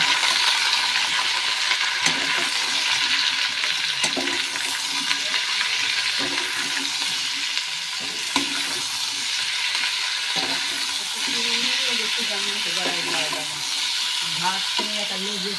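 Spiced food with chili powder is stirred in a frying pan for a Bengali poppy-seed potato and drumstick dish, giving a continuous sizzle with repeated scraping and clinking strokes close by.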